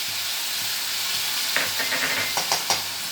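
Spice paste sizzling and frying in a hot wok (kadai), a steady broadband hiss throughout with a few scraping stirs near the end, close and moderately loud with no talk.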